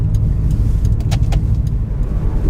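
A Subaru WRX wagon with a 2.5-litre turbocharged four-cylinder engine and fly-by-wire throttle pulls away smoothly, its low steady engine drone and road rumble heard from inside the car, with faint clicks and rattles above.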